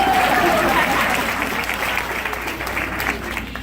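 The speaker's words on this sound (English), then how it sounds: "Big round of applause for Laura Shaker Cup" An audience applauds for Laura, a participant in a social media training event, with dense, steady clapping that stays loud through the whole stretch and tapers only slightly toward the end, no one speaking over it.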